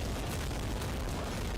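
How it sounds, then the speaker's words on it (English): Loud, dense booming explosions from the action video game Action Taimanin, continuous and clipping-level rumble with repeated bursts filling the whole stretch, no talk over it. "each of these explosions are extremely loud."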